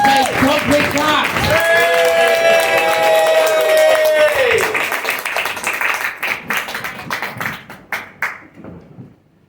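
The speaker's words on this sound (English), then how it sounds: "start the clapping, start the cheering, please. Keep cheering, keep making some noise" Loud applause and cheering from a comedy club audience greet a stand-up comedian, with a voice shouting over the crowd at first, then the clapping thins out and fades to silence.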